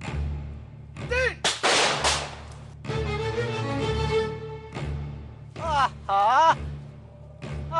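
Gunshots ring out after a spoken countdown in a Bengali drama scene, a few sharp loud cracks and booms spread across the clip among voices talking and reacting.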